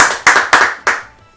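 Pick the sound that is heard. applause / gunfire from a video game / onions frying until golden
applause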